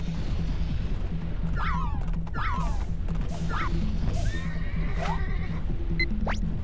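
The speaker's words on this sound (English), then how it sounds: "Horse noises intensify." Horse whinnies from the Nintendo 64 game Pokemon Snap, several short high neighs in quick succession over a looping low musical game background with thuds and clatter.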